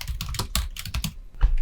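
Quick, steady tapping on a computer keyboard, close and clear, with keys struck in an even rhythm and a brief pause near the end; no talk.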